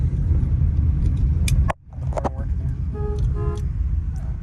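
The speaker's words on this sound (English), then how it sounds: "Horn works good." A 1966 Ford Thunderbird's horn honks in a couple of short bursts inside the running car, with a steady engine rumble underneath and a voice speaking nearby.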